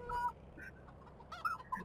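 Chickens clucking in the Farming Simulator 2015 video game, a few short close clucks and squawks in separate bursts with quiet gaps between them.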